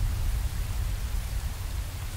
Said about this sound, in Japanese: 俺たちへの祝福の雨だ